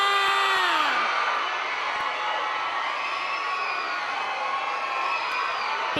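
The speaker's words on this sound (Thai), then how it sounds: "ขอเสียงปรบมือให้กับอิงฟ้าชาลอตค่ะ" Cheering and applause from the audience at the Nataraja awards ceremony in Thailand, a loud sustained crowd roar with whoops rising at the start and holding steady throughout.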